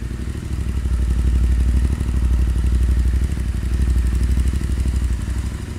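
An Interceptor 650 motorcycle fitted with a short Powerage slip-on exhaust and K&N air filter idles steadily nearby, a loud, even low thumping pulse with slight rises and dips and no revving.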